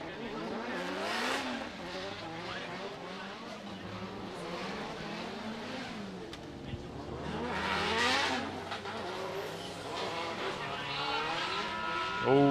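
Drift cars on a track during Formula Drift Japan qualifying at Ebisu, engines revving hard with continuous tire squeal and skidding, loud and sustained, a commentator talking over the noise.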